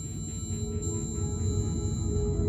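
Submarine sonar signal from a detected submarine, a steady low rumbling background hum with faint sustained tonal lines running throughout.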